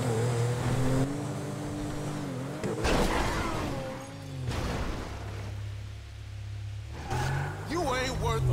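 A car engine accelerating in Grand Theft Auto V, revving hard with rising and falling engine pitch through repeated gear changes, loud and close, with a voice breaking in near the end.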